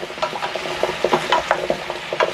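Radish and taro pieces are stirred in oil in a pot for a beef and perilla taro soup, giving a series of close, repeated scraping and clacking strokes against the pot with a light oily sizzle underneath and no talking.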